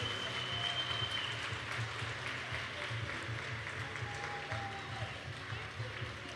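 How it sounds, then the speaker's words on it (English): Audience at a youth weekend event in the Northern Cape applauding the team on stage, a steady broad wash of clapping with a low rumble and some talk mixed in, continuous for several seconds. "Guys, can you put a round of applause for this team on stage?"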